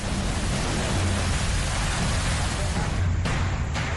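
Heavy torrential rain during monsoon flooding in Uttarakhand, India, a dense, steady hiss that fills the whole clip at a loud level with no pauses.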